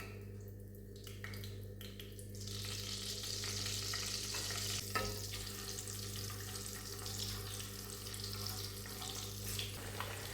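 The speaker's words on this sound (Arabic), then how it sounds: "دوكا هنا في مقله نحطوا شويه زيت وشويه تاع الزبده ولا مارغرين ونبداو نقليو التونه تاعنا" Tuna fries in a pan with oil and butter, a steady close sizzle with faint crackles running throughout after a quieter start, over a low background hum.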